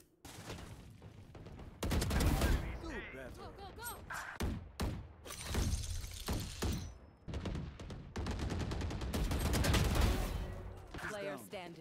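Rapid gunfire from a Valorant console ranked round fills the stretch with dense bursts and sharp impacts, some rising to loud clusters, mixed with game effects and occasional talk.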